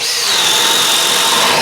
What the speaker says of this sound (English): Now we're going to set up the drilling rig and go through the drilling test.